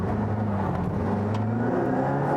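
An Aston Martin Valhalla's engine accelerates at a circuit, a steady, loud drone rising in pitch from inside the car, with no talk over it.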